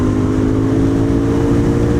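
A Royal Enfield Interceptor 650 motorcycle engine hums at steady high revs, a loud continuous droning note close up, with no voices.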